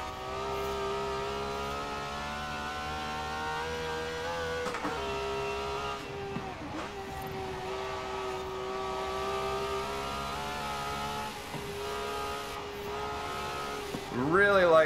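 A Ferrari 512 S in Forza Horizon 4 drones at a held, steady engine pitch that dips briefly at gear changes, then climbs into a rising rev at the end, with a voice talking underneath.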